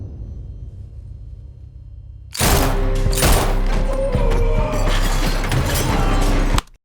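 Heavy gunfire erupts from a big gun in a crime film scene, a loud sustained burst of shots and impacts that cuts in abruptly after a quiet low rumble and runs continuously to a sudden stop.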